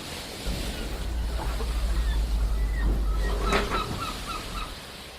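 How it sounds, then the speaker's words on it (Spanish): Waves and surf wash over the open sea where a boat floats, a steady roar with wind rumbling across the microphone and faint bird calls above it. "Allí en el mar hay una barca."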